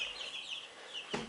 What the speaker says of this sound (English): Chick's just freaked out.